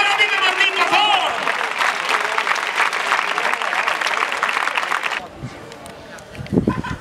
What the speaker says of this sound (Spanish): Fuerte el aplauso para ti, Martín, por favor